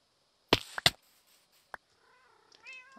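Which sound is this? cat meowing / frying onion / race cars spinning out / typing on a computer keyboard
cat meowing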